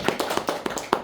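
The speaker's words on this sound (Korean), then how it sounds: "박수합시다." A short burst of clapping at a youth worship service, a handful of quick, close claps in an uneven rhythm, with no talking over it.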